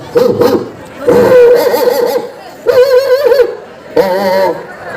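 A human voice imitates a rich household's pet dog barking and yapping in short loud bursts, three or four separated barks with brief pauses, close up.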